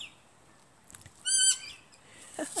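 Rainbow lorikeet calling from a garden tree: a short burst of bright, shrill chirps in the middle, fairly faint and distant, followed by a few scratchy notes at the end over quiet background.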